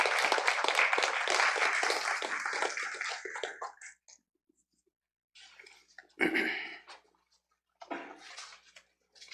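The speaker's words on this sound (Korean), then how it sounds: "우리 나오실 때 큰 박수로 환영해 주시면 감사하겠습니다." Church congregation applauding to welcome the pastor, a burst of dense clapping that fades out after about four seconds, followed by silence and two shorter scattered bursts of claps and movement.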